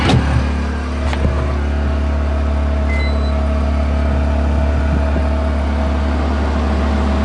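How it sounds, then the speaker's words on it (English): A portable generator runs outdoors beside a box truck camper, giving a steady, loud engine drone with a constant low hum throughout, a brief knock near the start and no talking. "Run off the generator because I didn't want to bring the extension cord out here to try it out."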